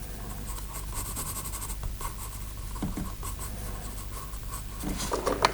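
A pencil sketching a triceratops on paper: close, continuous scratchy strokes that rasp back and forth steadily, growing a little busier toward the end, with no voices.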